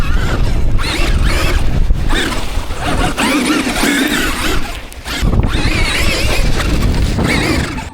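A Traxxas Pro Sand Car RC car accelerating on flat dirt, a loud, continuous high-pitched motor whine that stays close and steady with a brief dip midway.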